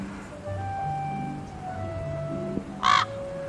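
A raven calls once, a short loud harsh croak standing out near the end over a quiet outdoor background with faint other birdsong.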